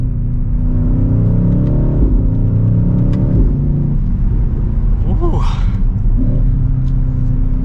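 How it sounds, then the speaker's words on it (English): A 2023 BMW XM's engine and exhaust rumble steadily as the vehicle accelerates, with a low droning note rising and shifting, heard from inside the car. "Hopefully you can hear that exhaust."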